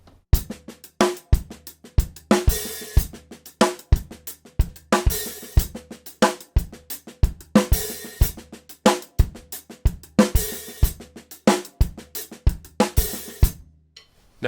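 Up-tempo paradiddle groove on a drum kit, with dense, even kick, snare and hi-hat strokes and periodic open hi-hat washes, played close and loud without any voices.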